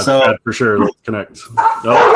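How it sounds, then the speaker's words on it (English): Dogs bark in the background of a home while a person keeps talking over them, the barks tangled with the voice. "Sorry for the dogs barking."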